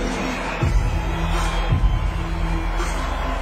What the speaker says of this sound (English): And the crowd, as you can hear, becomes a third character in the story.